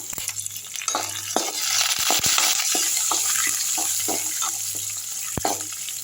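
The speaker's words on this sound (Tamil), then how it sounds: "காய்ந்த மிளகாதையும் போட்டுப்போம் நல்லா வறுப்பட்டோம்" Dried red chillies frying in hot oil in a kadai, a steady loud sizzle with scattered crackles and pops, close up and without talk.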